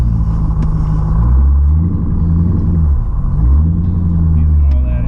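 A Corvette drift car with a newly fitted transmission rumbles loudly from inside the cabin, its deep engine note rising and falling through shifts.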